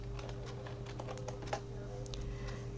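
Keys clatter on a computer keyboard as a layer name is typed in Photoshop, several quick, light taps in an irregular burst over a steady low electrical hum, close and quiet, with no talking.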